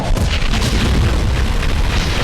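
A loud, dense cannon boom from an animated Skibidi Toilet episode rumbles continuously, with heavy low-end roar and crackling bursts throughout and no pause.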